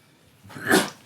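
A single short sneeze, fairly close and moderately loud, after a moment of quiet.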